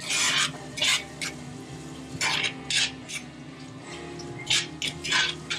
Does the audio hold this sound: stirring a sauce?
yes